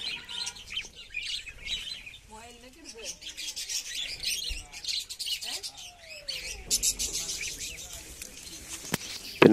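Many birds chirping and calling inside a fairly large aviary at a mango village park in Kollengode, busy overlapping tweets and some cooing, with a person talking over them.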